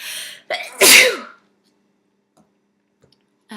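A single loud human sneeze with a sharp inhale beforehand, close to the microphone, followed by near silence, faint clicks and a brief sound at the end.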